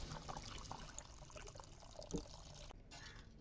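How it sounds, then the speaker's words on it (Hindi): Half a litre of water poured into a pot of cooked vegetables, a faint trickling splash at close range in a quiet kitchen. "तो अभी हम इसमें ऐड करेंगे आधा लीटर पानी।"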